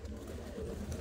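Pigeons cooing near Patna Sahib in Bihar: soft, low, rolling coos in a short, steady burst, fairly faint and without talk.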